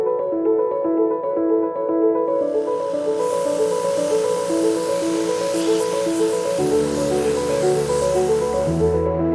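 A steady, loud hiss of air-compressor-powered abrasive spray for etching and sanding runs continuously over an ongoing background of music.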